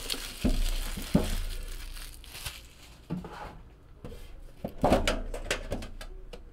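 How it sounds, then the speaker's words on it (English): A box of 2017 Upper Deck Marvel Premier trading cards is opened up close with crinkling, tearing and rustling of cardboard and wrapper, coming in irregular bursts with quieter pauses between. "Let's pop open this box and let's see what we got."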